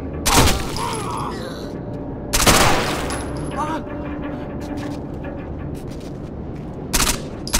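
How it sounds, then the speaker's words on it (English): Video game gunfire tearing through thin cover of wood, plaster or thin metal: heavy bursts at the start and middle with a shorter one near the end, with a voice talking between them. "We can take out tangos who hide behind thin cover like wood, plaster, or thin metal by shooting right through it"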